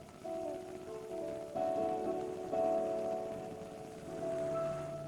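Steady rain falls outdoors beside a campfire, a continuous soft patter that rises and falls in loudness, with a few faint tonal sounds over it and no talking.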